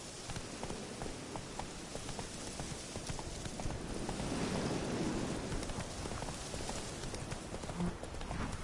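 Roach the horse galloping in The Witcher 3, steady hoofbeats under a wash of rain-like ambience, moderately loud and continuous.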